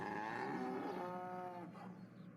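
Cows moo on a farm in an animated series, a long drawn-out low bellow sounding clearly and fairly close, fading out at the end.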